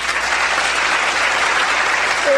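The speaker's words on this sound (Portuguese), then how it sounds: "Uma palmas" Studio audience applause on a live television news program fills the short moment, dense and steady clapping at fairly loud level.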